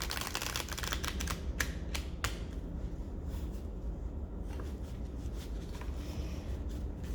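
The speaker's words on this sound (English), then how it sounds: "So I am just shuffling the cards." Soft, rapid clicking and riffling of cards being shuffled, in short bursts over a steady background hiss.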